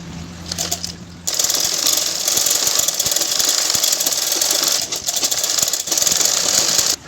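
Close, rapid rattling of a sewing machine stitching a folded neck strip on a 42-inch blouse, running steadily for several seconds with a couple of short dips.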